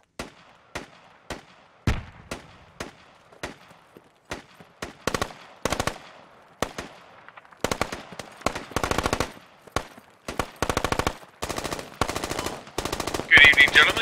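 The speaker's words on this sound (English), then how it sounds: "There's a lot of gunfire there." Machine gun fire in the video game Squad rattles out as sharp single shots and then dense rapid bursts, crisp and fairly close, with a few distant pops in between.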